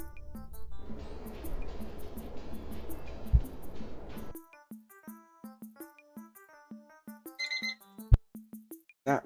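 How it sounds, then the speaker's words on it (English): An alarm ringtone going off during a Roblox game-development stream: a busy musical passage gives way to a repeating pattern of bright, plucked, chime-like notes in a steady rhythm, clear and alone. "That was the alarm I set."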